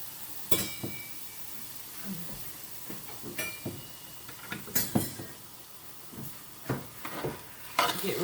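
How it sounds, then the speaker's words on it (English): Quarter of an onion sizzling quietly in a taco casserole mixture while a utensil stirs and scrapes the pan, giving irregular clinks and knocks over a low, steady frying hiss, with no talk. "Get ready to start frying."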